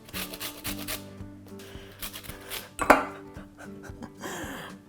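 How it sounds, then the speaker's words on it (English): Zest of four lemons grated over a baking mix, heard as rhythmic rasping strokes close by, with a brief sharper scrape midway and soft background hum. "I'm going to just grate in the zest of these 4 lemons into the mix."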